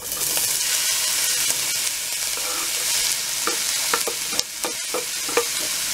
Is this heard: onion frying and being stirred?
yes